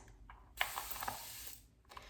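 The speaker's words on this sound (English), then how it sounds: "it continues to spray and it's a very fine mist" A spray bottle hisses out a fine, continuous mist for about a second, preceded and followed by a few quiet clicks.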